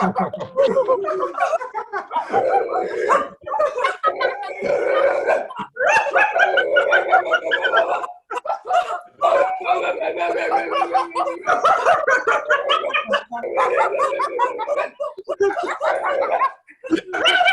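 A person playfully imitates a dog during a laughter yoga session on a video call, producing repeated short barking and yipping bursts mixed with chuckles and laughter over about seventeen seconds.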